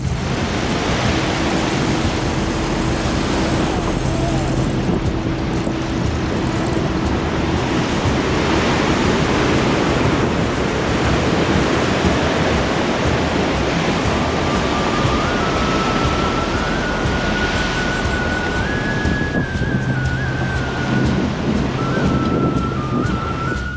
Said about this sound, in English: the sounds of the waves are magnificent